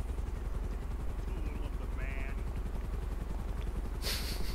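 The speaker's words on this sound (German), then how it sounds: "Ist auf ein Heli, der da rumfliegt." A helicopter in GTA 5 Online flies close overhead, its rotor thumping in a fast, steady beat that holds the whole time, with a faint short burst near the end.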